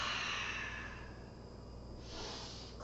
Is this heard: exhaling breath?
yes